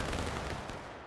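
A musket volley in War of Rights, recreating the Antietam cornfield fight, sounds as one loud, dense crackling blast of many shots that decays quickly into a rumble.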